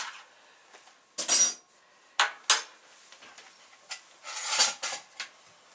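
Several sharp clinks and scrapes of a spoon and a sugar jar lid being handled, in uneven bursts with quiet gaps between them.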